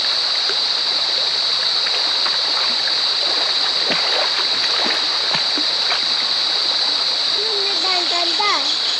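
Splashing and rushing water from people bathing in a river in the early evening, a steady broadband wash that fills the whole clip, with a voice briefly heard near the end.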